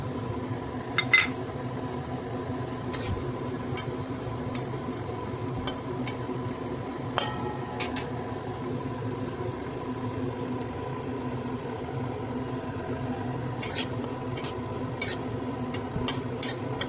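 Poppy seeds dry-roast in an oil-free pan over a low gas flame for a Marathwada-style black masala; faint, sparse ticks and light scrapes of stirring recur over a steady low background hum.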